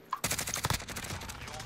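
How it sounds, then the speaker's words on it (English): Rapid bursts of automatic gunfire in a video game crackle in a dense, loud volley that begins abruptly and continues to the end. "They're shooting. They're fighting."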